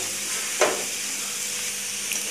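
Garlic, fenugreek seeds, cinnamon and cardamom sizzle softly in hot oil in a pan while being stirred for a village-style kochu shak, a steady quiet hiss with a single scrape of the spoon.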